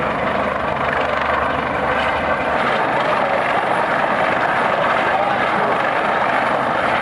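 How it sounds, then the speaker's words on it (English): A Coast Guard helicopter hovers during a rescue at sea beside the cruise ship Carnival Sensation, giving a constant, loud rotor thrum and engine whine with no break. "Coast Guard helicopter rescue in the middle of the ocean from Carnival Sensation ship."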